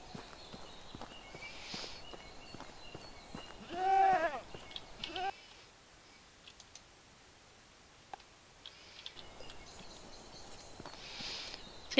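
Goats bleating in the medieval farming game Medieval Dynasty, a cluster of wavering animal calls around the middle over soft ambient game sound with light footstep-like clopping.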